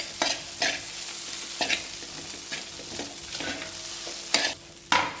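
Chicken cutlet mixture stirred in a frying pan, with a spatula scraping and knocking the pan in a steady rhythm over a continuous close sizzle.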